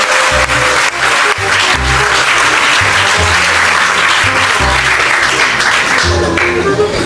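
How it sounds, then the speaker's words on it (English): Loud, sustained applause from a debate audience, a continuous dense clatter of clapping over low rhythmic music throughout. "we won't mind if you guys would clap again for the three of us"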